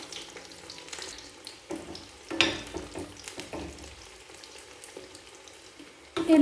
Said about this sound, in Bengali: তেল গরম হয়ে গেছে, এরপর একটা কচুরি তেলের মধ্যে দিয়ে দিলাম।